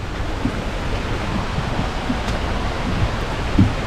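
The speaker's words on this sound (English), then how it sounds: "I can hear the waterfall, so we're getting very close" Broad, steady rushing roar of a waterfall at Ricketts Glen, constant and even, heard from a short distance with faint thumps at times.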